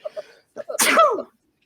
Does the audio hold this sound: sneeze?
yes